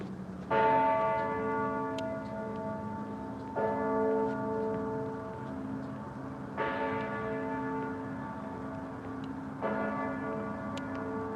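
Old clock tower bells in England chime slowly and resonantly, four evenly spaced strikes roughly three seconds apart, each leaving a long humming ring that overlaps the next, with no voices.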